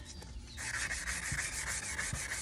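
Fine-grit sandpaper rubs over a glittered tumbler after a coarser 120-grit pass, a steady, close, raspy scrubbing that starts after a brief quiet moment and continues evenly without talk.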